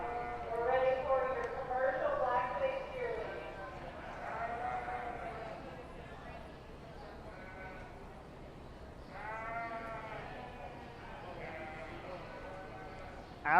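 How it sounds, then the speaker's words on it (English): Commercial black-faced ewes bleat repeatedly at a county fair sheep show, their wavering calls rising over a steady crowd murmur and a voice talking, with a few louder cries in the middle of the stretch. "We're now ready to bring in our final class of commercial black-faced ewes."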